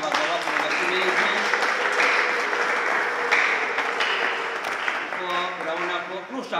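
Wedding guests clap in a dense, continuous round of applause that stays loud and steady throughout, with crowd voices mixed into it.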